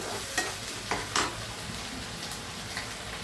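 Ginger-garlic paste frying in a pan in a home kitchen, a quiet steady sizzle broken by several brief spatula knocks and scrapes.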